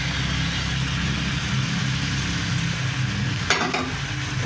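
Boiled jackfruit and potato fry and get stirred into masala in a pan, giving a steady close sizzle with scraping stirs. A low hum runs underneath, and a short clatter of the utensil comes near the end.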